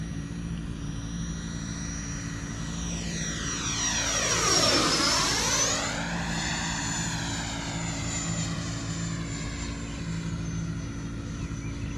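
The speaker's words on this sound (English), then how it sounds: "It's a good flying little plane." A small model airplane with a propeller engine passes overhead, its buzzing whine rising and falling in pitch as it approaches, peaks loud around the middle, then recedes, over a steady low hum.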